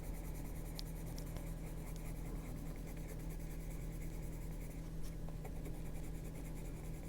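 A Derwent Procolour pencil scratches steadily across paper during adult coloring, producing a continuous soft, dry rubbing that stays close and even with no breaks or voices.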